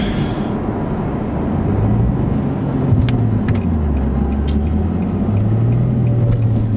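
Steady, loud engine drone from inside a car moving in fifth gear at 2,500 RPM, fitted with an Invidia Gemini cat-back exhaust and Berk Tech high-flow cats, with a low hum rising and falling slightly and road noise throughout.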